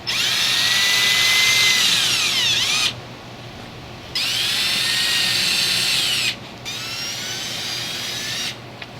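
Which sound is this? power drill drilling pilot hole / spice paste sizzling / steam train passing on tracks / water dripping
power drill drilling pilot hole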